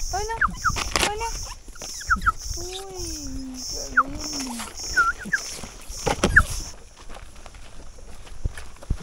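A small female dog whimpers and lets out high yips in greeting at a remote rural home, the cries rising and falling in short bursts amid footsteps and shuffling, with people talking nearby.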